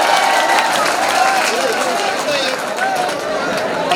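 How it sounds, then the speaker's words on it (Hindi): An audience at a poetry mushaira in Kasoda, Jalgaon claps and murmurs in a continuous, dense wash of applause and crowd noise, with voices mixed in throughout. "तालियां बजाकर आप इजाजत दें"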